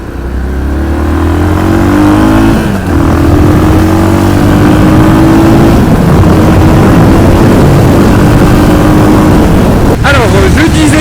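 A motorcycle accelerates hard through several gears, its engine note climbing in rising sweeps with brief dips at each shift, all under loud, steady wind roar.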